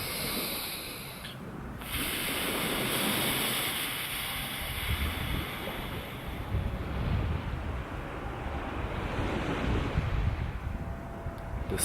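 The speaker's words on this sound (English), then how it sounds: "The sea can be a very calming motion for the mind." Sea waves rolling in, a broad steady rush of surf with slow swells rising and easing, mixed with some wind, moderately loud and with no voices.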